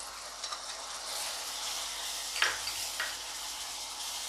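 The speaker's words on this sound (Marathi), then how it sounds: "आणि आता याला तेल सुटेपर्यंत आपण चांगलं 2 मिनटं परतून घेऊया." Masala with turmeric sautéing in oil in a pan for Konkani-style chicken, giving a steady close sizzle with a brief clatter of stirring midway and no voices.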